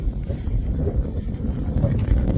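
Strong outdoor wind buffets the microphone at a Korean memorial site, a steady low rumbling roar with no breaks.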